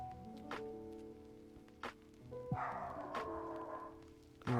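A dog barks in a few sharp bursts indoors, spaced apart over steady low household background, with no talking.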